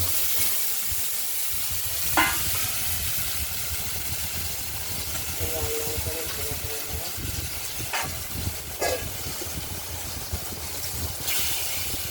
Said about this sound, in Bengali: এরপর আলুগুলোকে ভেজে নেব।